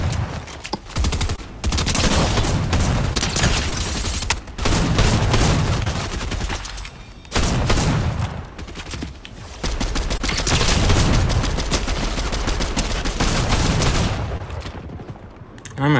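Rapid bursts of shotgun gunfire against enemies in a Triggerfish video game, loud and dense, arriving in several long volleys broken by brief pauses.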